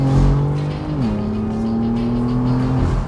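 A BMW M4 Convertible's turbocharged engine rumbles loudly and steadily with a deep exhaust drone, its pitch dipping slightly then holding level, close up and with no talking.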